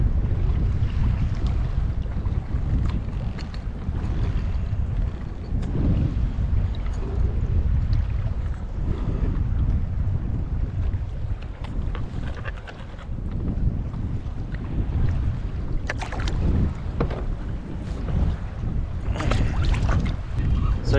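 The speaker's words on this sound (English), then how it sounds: "Wind is up, white caps, they're going strong." Strong wind roars over rough, whitecapped sea off Neah Bay while a fishing boat rocks in heavy weather: a loud, continuous broadband rush of wind and churning water with gusty surges throughout.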